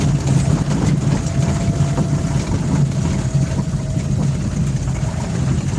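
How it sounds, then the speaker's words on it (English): A truck engine idles on a farm with a steady low rumble, mixed with wind buffeting the microphone, continuous and fairly loud. "Can everybody hear me over the truck?"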